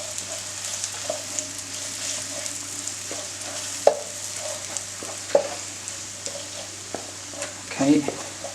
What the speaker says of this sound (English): Okay, so now we're going to add the garlic.